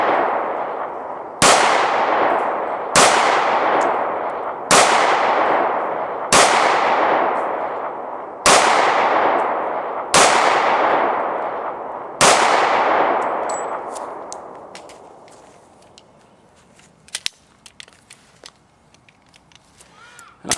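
Seven evenly spaced pistol shots from a Para Expert Carry 1911 ring out on steel targets outdoors, each a loud crack followed by a long metallic ring that fades, then quieter handling clatter after the last shot.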